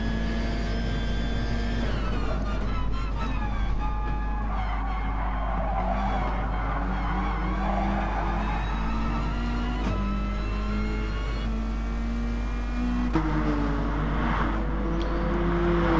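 A Mazda touring car's engine howls in an online racing game at Dragon Trail, a loud steady drone that rises and falls with gear changes and throttle lifts, heard from the cockpit with no talk over it.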